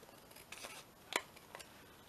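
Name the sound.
cutting paper out with scissors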